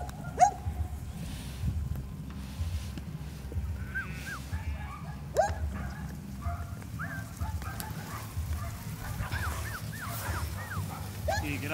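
A Kelpie working dog gives intermittent barks, yips and whimpers at moderate distance over steady outdoor background noise, the calls scattered irregularly through the stretch.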